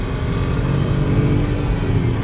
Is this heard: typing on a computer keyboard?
no